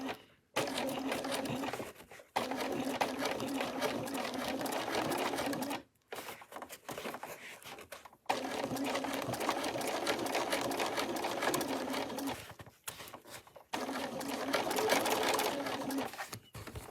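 A sewing machine stitches a unicorn-pattern fabric bag at a 3 stitch length, running in several long steady bursts separated by short pauses, close and loud.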